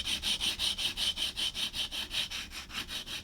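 Repeated back-and-forth sanding of a fake brass acoustic guitar nut, a steady rhythmic scrape of about sixteen even strokes, close and fairly loud with no talk.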